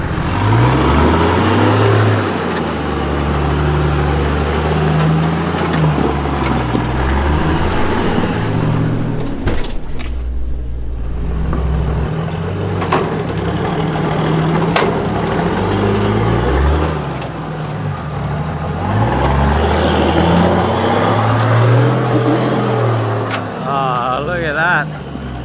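A car's engine revs hard and labors while climbing a steep track, with the loud surging drone rising and falling in waves and voices talking over it.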